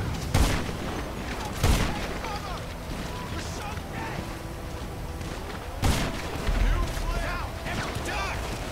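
Gunfire in GTA 5 crackles in sharp loud bursts at irregular intervals, with a rumbling vehicle and wind noise between the shots.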